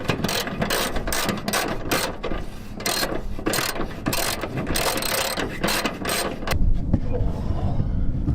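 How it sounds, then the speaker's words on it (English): Ratchet clicking in repeated bursts while bolting in a radiator on a Chrysler, a style of radiator bolt used for many years, close and loud in a garage, with occasional voices nearby. "Let's finish getting this bolted in here"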